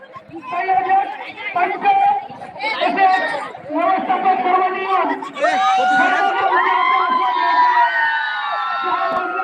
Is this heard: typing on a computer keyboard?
no